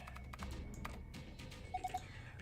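Typing on an old, well-worn computer keyboard in the Zero Escape game Virtue's Last Reward, soft clicks over a low room hum, with three short beeping tones near the end.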